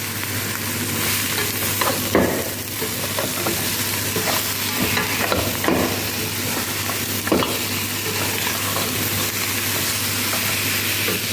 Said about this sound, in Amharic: ከዛ እንደዚህ ከጠበስኩት በኋላ ነጭ ሽንኩርቱን እጨምራለሁ ማለት ነው።